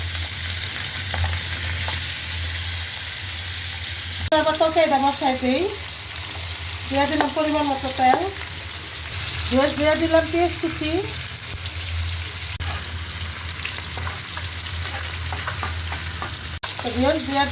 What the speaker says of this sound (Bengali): আমি আগে তেল দিয়ে দিছি এখন মাছগুলো দিয়ে দেয়